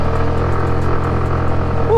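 A Suzuki Avenis 125 scooter engine drones steadily at close range, its revving tone sustained and loud throughout, with a brief chirp near the end.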